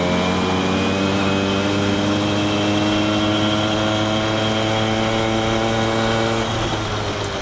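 A Suzuki FA50 moped engine at full throttle on a ride, producing a loud, steady, high buzzing drone with strong harmonic whine, close and unbroken for several seconds before easing slightly at the end.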